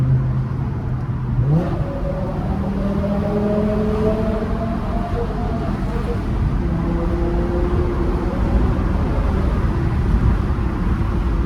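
A BMW E60 M5 engine revs up and holds a loud, droning roar as gears shift, reverberating inside a tunnel, with a voice speaking underneath.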